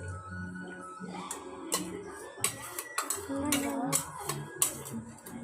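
A spoon clinks and scrapes against a bowl while ingredients are stirred together, with irregular sharp taps and rattles over a low background, close and moderately loud.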